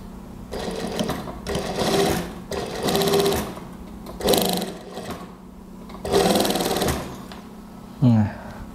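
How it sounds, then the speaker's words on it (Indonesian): Sewing machine running in repeated bursts of stitching while lining the neckline of an A-line gamis, its rapid mechanical whir starting and stopping close by, with short pauses between runs and a brief voice near the end. "Oke, saya mulai jahit dari sini."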